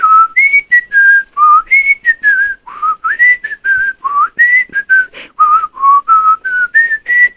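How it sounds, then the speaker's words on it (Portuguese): A person whistles a lively melodic tune, loud and close, in short phrases with brief pauses between notes. "Viram o meu talento para assobiar"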